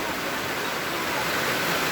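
Heavy storm rain in Laos with water running off, a dense, steady broadband rush that holds close and constant throughout, without a break.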